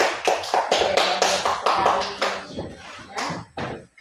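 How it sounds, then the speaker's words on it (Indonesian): A small school class claps for a group presentation, with a burst of distinct, uneven handclaps close by that thin out to a few scattered claps by the end. "berikan tepuk tangan untuk kelompok kedua"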